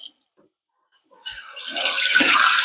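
Water poured from a height into a cooking pot for rice, a splashing rush that starts after a few faint clinks and grows steadier and fuller over about a second and a half.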